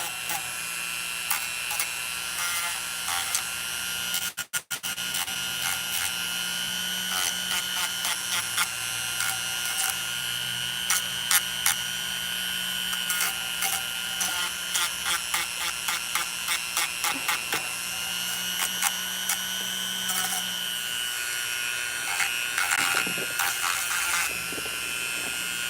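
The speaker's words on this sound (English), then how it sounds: "So I think I'm just going to Dremel part of it off." Dremel rotary tool grinding part off a doll, a continuous high buzzing whir with rapid crackling ticks as the bit bites, close up and sustained, briefly interrupted once.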